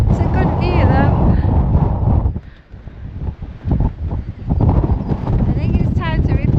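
Strong wind buffets the microphone on an exposed hilltop, a constant loud roar that briefly drops and then surges back, with a voice speaking over it.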